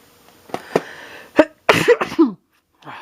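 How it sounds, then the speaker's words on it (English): A single person sneezes indoors, preceded by a few sharp sniffs and followed by brief breathy sounds, close and moderately loud with no talking. "That sneeze just came to me."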